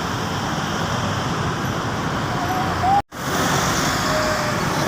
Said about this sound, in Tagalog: nakikita ninyo mga sasakyan, yan yung papuntang Buhangin.